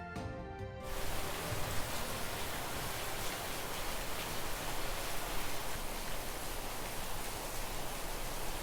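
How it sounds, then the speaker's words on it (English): Steady rain falling outside on a wet day, a dense, even hiss of drops that holds at a constant level after a quiet first second, with no voices. "It's currently raining outside,"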